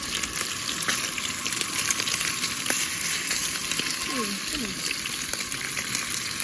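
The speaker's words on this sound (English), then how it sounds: "Oh, I got the bacon going." Bacon fries on a small camping grill outdoors, an even, crackling sizzle close by with faint water-like hiss and scattered pops, while a few brief background sounds drift in.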